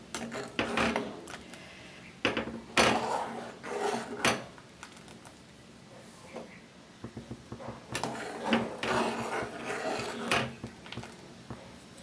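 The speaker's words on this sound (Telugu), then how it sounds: "ఇలా మధ్య మధ్యలో కలుపుకుంటూ ఉడికిద్దాం" Bottle gourd payasam with rice and cashew paste is stirred in a pot, with a spoon scraping and knocking against the metal in loud, irregular bursts between quieter stretches of gentle simmering.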